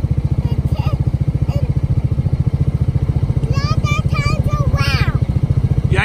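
A Polaris RZR 170 side-by-side engine running steadily while driving, a loud, even rhythmic putter throughout, with a child's and an adult's voices talking briefly over it.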